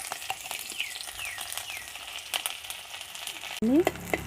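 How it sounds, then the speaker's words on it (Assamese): Onion pieces drop into hot oil for a simple pork dish and fry with a steady, close hiss and crackle, ending with a brief clatter and a rising tone. "তেল গৰম হোৱাৰ লগে লগে এয়া মই কেইডোখৰমান পিঁয়াজ দি দিছোঁ।"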